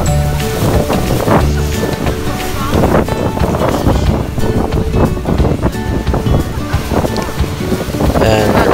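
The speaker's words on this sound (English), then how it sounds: "we were very close to the falls and it was so windy" Strong wind buffeting the microphone close to Niagara Falls, loud gusty rumbling mixed with the roar of falling water and rain, with people talking over it.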